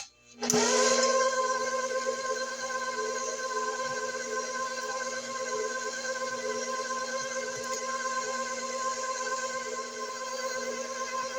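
A stand mixer whirs steadily in second gear through Italian cream cheese pound cake batter, starting with a sharp click and settling into a constant, close motor hum.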